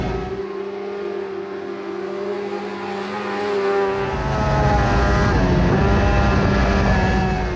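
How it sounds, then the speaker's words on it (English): A race car lapping a track during pre-season testing, its engine droning steadily with a rising, harmonic-rich whine that swells louder as it draws nearer and passes. "It was so great to see the car out doing its first laps"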